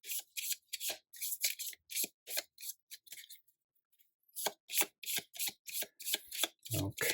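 Repeated crisp riffling and slapping of tarot cards being shuffled, in quick bursts with a short pause in the middle, close and clear.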